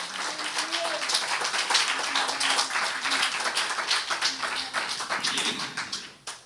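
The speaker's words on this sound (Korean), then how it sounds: "우리 하나님께 영광의 박수 한번 올립시다." A church congregation claps in steady unison, dense rhythmic applause that fills the space, with voices speaking and calling out over it.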